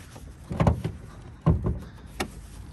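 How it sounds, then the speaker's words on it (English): A car door shutting on a 2019 Audi S5 Sportback, heard as two dull thumps about a second apart with a fainter knock after, fairly close and without talk. "Go ahead and close the door."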